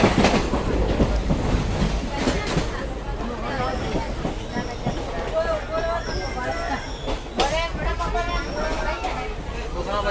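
An express train runs through the Thar Desert with a loud, continuous rumble and rhythmic clatter of wheels, heard from inside a carriage under a steady babble of passenger voices.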